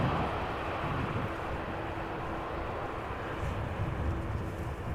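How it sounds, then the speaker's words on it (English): An Embraer 190 jet arriving at Amsterdam Schiphol, heard as a steady, distant broadband roar that holds evenly throughout without any voices. "The third consecutive Embraer 190, this one arriving from Newcastle"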